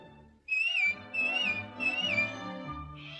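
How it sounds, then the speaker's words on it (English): A bright, clear human whistle in three melodic phrases, close and steady, from the 1940 animated film Pinocchio's 'Give a Little Whistle' scene. "just whistle."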